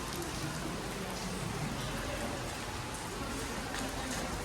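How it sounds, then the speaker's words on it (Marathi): Steady rain falls outdoors on a dull afternoon, a dense even hiss of drops on surfaces filling the whole stretch at constant level with no voices. "पाऊस तर चालू आहे"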